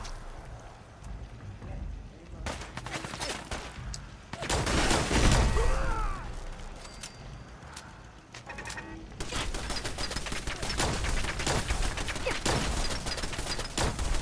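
Automated turrets in Fallout 4 fire repeated bursts of rapid shots amid other combat noise, with a dense stretch of fire in the middle and steady crackling rounds toward the end, loud and close.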